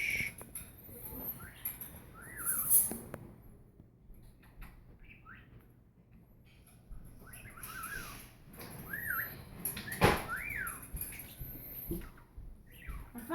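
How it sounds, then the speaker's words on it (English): A pet cockatiel and other birds chirp and whistle in short rising-falling calls indoors, scattered across a quiet room with soft rustling and a sharp click between calls. "You want to hear the birds talking a little bit"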